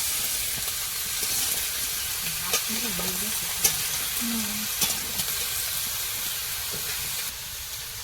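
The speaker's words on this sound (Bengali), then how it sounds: "এখন বেগুন আলুটাকে একটু কষিয়ে নেব" Potato and brinjal pieces fry in oil in a pan with salt and turmeric, giving a steady soft sizzle, broken by a few scraping stirs and clinks and a short low hum partway through.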